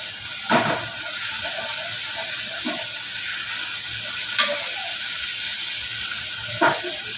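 Cauliflower curry with salt and turmeric sizzles steadily in a hot pan, a constant frying hiss broken by a few louder stirring scrapes and pops, close up with no talking.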